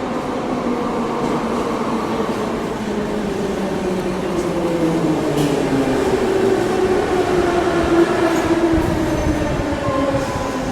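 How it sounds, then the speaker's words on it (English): A Kyiv metro train rumbles steadily and loudly throughout, its wheels grinding with a rising, slightly squealing tone as it runs into the station. "I love how the metro always comes on time"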